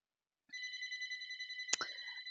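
A telephone rings with a steady electronic warble, starting after a brief pause and continuing through a sharp knock near the end. The ringing is clear and fairly close, with no talk over it.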